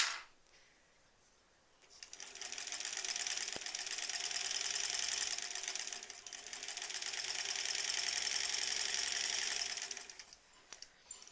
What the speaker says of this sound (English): the sewing machine seems to be working great so far